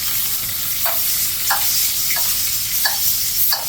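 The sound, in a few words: steak sizzling in a pan with brown butter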